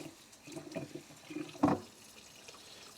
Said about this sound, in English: It's filling up with hot water